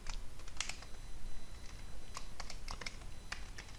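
C code is typed on a computer keyboard, giving quick irregular clusters of close key clicks and taps over a faint steady background hum.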